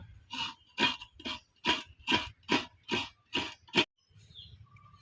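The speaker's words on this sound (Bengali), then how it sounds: "এবার আমি একটা কোরআনি দিয়ে নারকেলটাকে কুড়িয়ে নিব" Coconut grated on a hand grater: about nine rhythmic, evenly spaced rasping strokes, close and fairly loud, then a brief quieter pause at the end.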